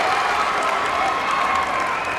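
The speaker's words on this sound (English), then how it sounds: "Newman crowd, something to cheer about." A high school basketball crowd in the Newman gym cheers and applauds loudly and steadily, a dense roar of voices and clapping with no break.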